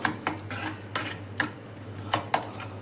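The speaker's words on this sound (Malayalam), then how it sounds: "ചൈന ഗ്രാസ് മെൽറ്റ് ചെയ്യാൻ വെച്ചിരിക്കുന്ന ഒന്ന് ചെറുതായിട്ട് ഇളക്കി കൊടുക്കണം" China grass (agar) melting in a pan and stirred gently, with soft, irregular clinks and scrapes of a spoon against the pan over a low hum, quiet and close with no speech.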